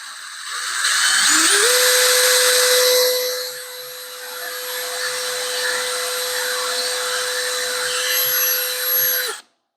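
A drill bores through the outer fiberglass layer of a boat hull, spinning up to a loud steady whine that holds for several seconds and then cuts off abruptly.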